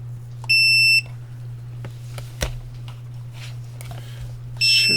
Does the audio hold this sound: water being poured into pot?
no